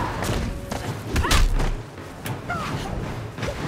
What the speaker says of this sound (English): Kick to the face.